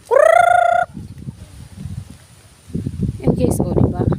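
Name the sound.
chicken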